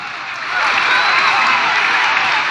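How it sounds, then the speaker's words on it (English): Algerian supporters in a packed football stadium applauding and cheering a substitute coming on, a loud continuous wash of crowd noise and clapping that swells and holds steady. "he gets terrific support and applause from the Algerian supporters"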